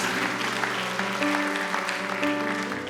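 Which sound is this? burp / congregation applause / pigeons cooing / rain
congregation applause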